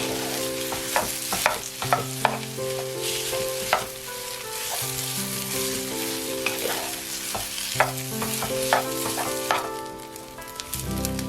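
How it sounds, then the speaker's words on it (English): Kimchi fried rice sizzling in a hot pan as a spatula breaks up clumps, with steady frying hiss and repeated sharp scrapes and taps of the spatula, close up and without speech. "Break up any clumps with your spatula and mix well with the other ingredients."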